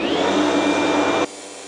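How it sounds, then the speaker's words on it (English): A loud, steady roar of a dust extractor with a power saw running, cutting off abruptly to a quieter hum, while cutting a DIY door frame. "probably start the vacuum first, and then press go"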